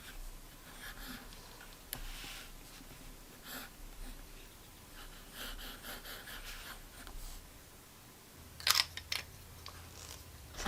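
A broad-nib fountain pen filled with brown ink writes on paper, giving a faint, soft scratching in a quiet room, with a few small clicks and a brief sharper rustle near the end.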